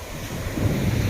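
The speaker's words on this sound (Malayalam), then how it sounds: "പാലോലം ബീച്ച്." Ocean waves roll in at Palolem beach in Goa, a short burst of surf wash that swells louder, mixed with wind buffeting the microphone.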